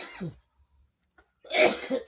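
Two short coughs separated by a brief silence, close and moderately loud, the second harsher and longer.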